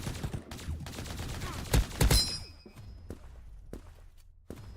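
Rapid gunfire from an AK rifle in the online shooter Krunker, several quick bursts of sharp shots with thuds and brief game sound effects, then a few spaced single impacts.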